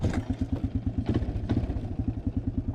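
A small engine on a vehicle with JB-welded wheel hubs catches and runs with a steady, rapid chugging idle, loud and close, with a few clattering knocks over the rhythm.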